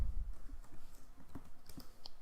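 Keystrokes on a computer keyboard as a terminal command is entered, a handful of quiet, irregular clicks spaced across a couple of seconds over a soft background hum.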